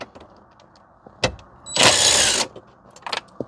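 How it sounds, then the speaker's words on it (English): Impact wrench on 10mm bolts of a Pontiac Solstice, one short buzzing burst of about a second amid quiet clicks and handling noises, close by. "I'm just going to use my impact today"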